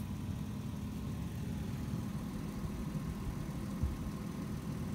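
A low, steady engine idles nearby beside fresh dung with beetles in Animas Valley, New Mexico, a constant rumbling hum with no voices over it.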